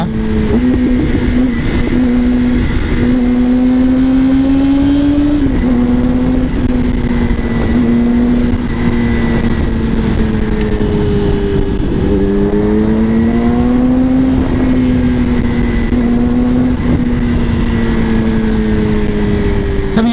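A Yamaha R6 motorcycle being ridden, with a loud steady engine drone that rises and dips as the throttle varies, continuous and close under heavy wind rush.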